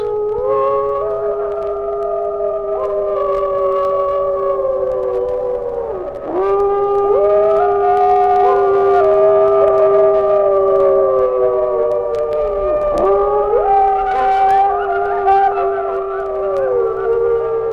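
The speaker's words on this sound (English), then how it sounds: "One after another wolf joins in, and the chorus swells, then dwindles, often to some short barks" A wolf pack howls in chorus, several long, overlapping tonal voices rising, sliding and falling together in a loud, sustained swell with no pause.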